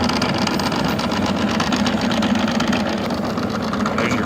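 A tabletop seed cleaner's fan runs steadily with a continuous, dense motor whir and airy rush, loud and unbroken throughout, with no voices.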